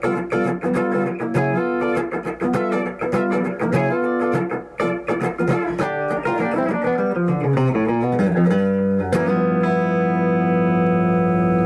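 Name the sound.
electric guitar bridge pickup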